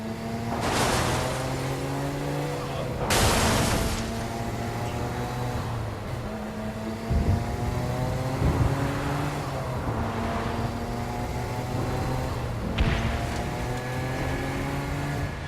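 A car in the Saints Row: Gat out of Hell video game drives steadily, its engine droning with shifting pitch as it accelerates, punctuated by a few sharp bursts of louder noise.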